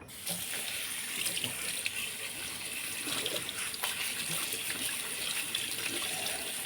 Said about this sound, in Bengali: জামাগুলো ধুয়ে দেবো